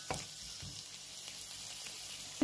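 Onion softens in a pan with a constant gentle sizzle, fairly quiet and close, with a few soft stirring knocks and no voices over it.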